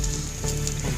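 Nasi goreng fries in a hot wok while being stirred, making a loud, continuous sizzle with light scraping throughout.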